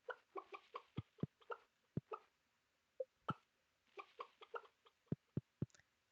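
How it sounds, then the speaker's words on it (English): Baby chicken in the Stardew Valley farm game cheeps in short bursts, with several quick clucky chirps and sharp low plops spaced irregularly, fairly close and alone. "Hello, baby chicken."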